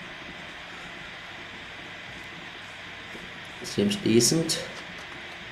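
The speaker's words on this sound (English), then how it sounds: "Oh, this is the locomotive." Inside The Walking Dead game, a steady low rumble of railway ambience surrounds a locomotive, continuous and fairly quiet, with a man's brief spoken remark near the end.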